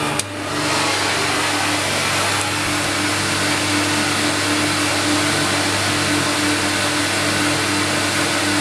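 A CamVac dust extraction system runs with one motor going alongside a vacuum pump fitted with baffle tubes, giving a loud, steady broadband whine and hum that holds constant from start to finish with no voices.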